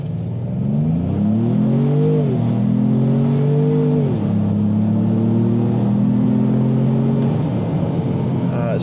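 A 2025 Ford Maverick in LOBO mode holds its engine at high revs, a steady loud drone with pitch shifts as it climbs and drops between gears, running continuously near the cabin.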